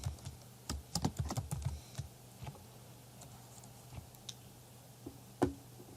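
Someone types an axis label on a computer keyboard, producing a quick cluster of close, light key clicks. A few scattered, fainter taps and a final louder click follow over a quiet background with no talk.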